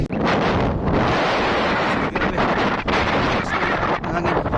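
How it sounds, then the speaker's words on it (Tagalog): Strong wind blows steadily outdoors in Lurgan, Northern Ireland, with heavy buffeting on the microphone throughout and a few gusty dips, loud and close. "ganda ng panahon, mahangin."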